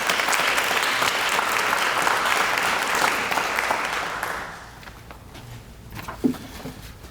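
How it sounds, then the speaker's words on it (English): A school audience gives a sustained round of applause for a police chief at a State of the Schools address, a full, even wash of clapping that thins out after about four seconds into a few lingering claps and shuffling. "please join me in a round of applause for Chief Kyle Weatherly of the Richmond Police Department"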